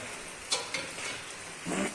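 Skinless chicken meat browns in a pan, giving a soft, steady sizzle with a couple of sharp scraping stirs and a heavier shuffle near the end, close and fairly quiet, with no voices.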